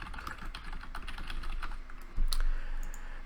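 Someone types a short name on a computer keyboard: quick, light key clicks in a close, steady patter, with a slightly louder thump near the end and no voices.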